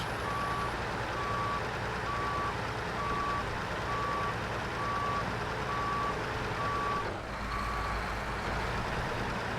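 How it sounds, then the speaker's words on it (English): Steady, evenly spaced reversing beeps sound from a truck backing past a service trailer in Snowrunner, layered over a continuous low engine rumble, with a brief shift in the noise near the end. "So maybe we'll just reverse past this service trailer and go back out."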